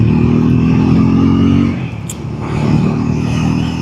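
Triumph Scrambler 400X motorcycle under way, a loud steady engine drone with wind roar that dips briefly mid-clip, as if during a gear change, then picks back up.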